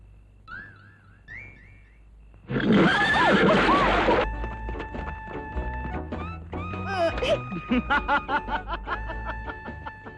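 A horse neighs loudly and close in a Telugu action film scene, a long shrill whinny followed by snorts and snickering, with music tones and a few thuds around it.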